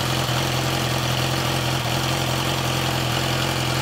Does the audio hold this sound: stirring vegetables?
no